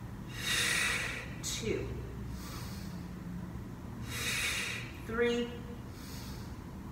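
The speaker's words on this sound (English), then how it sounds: "breathe 4 breaths" Deep breathing during a Pilates plank: several slow, audible inhales and forceful exhales at a calm, even pace, with an instructor counting aloud over them.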